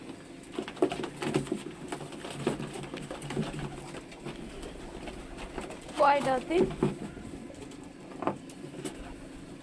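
Wild pigeons shut inside a box coo faintly, with a short burst of cooing partway through, amid quiet rural background noise and someone talking.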